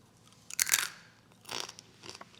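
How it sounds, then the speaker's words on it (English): Crispy air-fried pasta chips crunch between the teeth in close, sharp bursts: a couple of loud bites and chews, then a smaller crunch, with quiet between them. "It's so crunchy."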